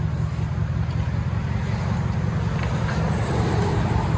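A Dodge Durango R/T with a 5.7-liter HEMI V8 and straight pipes idles with a steady, deep, loud rumble that stays unbroken and is recorded close, with noticeable wind noise and no talk.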